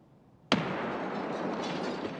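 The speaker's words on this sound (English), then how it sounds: "People just throw nades down long hallway for no reason." A sharp grenade blast in a long hallway in Escape from Tarkov hits suddenly, then rolls into a sustained, echoing rumble of reverberation and debris that fades only slightly.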